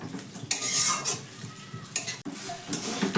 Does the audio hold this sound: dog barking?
no